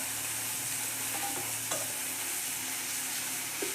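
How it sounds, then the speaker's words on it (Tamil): Green chilies and tomatoes sautéing with salt in a pan for a fenugreek kuzhambu, giving a steady soft sizzle with a few faint stirring scrapes, close and alone without voices. "தக்காளி இதை போட்டு நல்லா வதக்கிக்கணும்."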